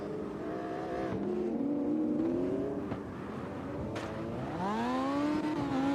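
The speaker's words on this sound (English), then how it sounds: "Rocking the RX-7 here. Rotary Madness." In a racing video game a Mazda RX-7 with a rotary engine revs and shifts, its rising and falling engine note steady and prominent as the car accelerates through several gear changes.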